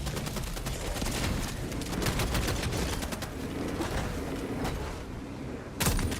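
Sustained automatic gunfire from the video game Helldivers 2, dense rapid bursts crackling continuously for several seconds, with a sharp loud burst near the end.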